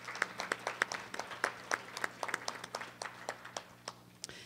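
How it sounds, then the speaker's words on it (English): A small audience at a talk on living with chronic pain gives scattered applause, the individual claps distinct, fairly faint and irregular, tapering toward the end. "Let's give them a round of applause."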